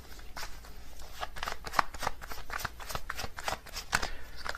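Tarot cards are shuffled steadily for several seconds, a continuous papery riffling and flicking at close range with quick rhythmic slaps, no voices over it.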